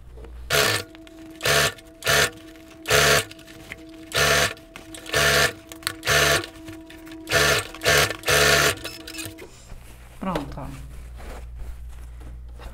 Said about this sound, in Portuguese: Depois é só passar uma costura em toda a volta e revirar pela abertura do fundo do forro